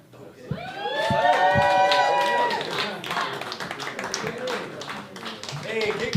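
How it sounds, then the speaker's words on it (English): An open-mic stand-up comedy audience claps and cheers loudly as a comedian is welcomed to the stage, with whoops and shouts riding over sustained applause that slowly thins while voices call out. "Give yourself a round of applause"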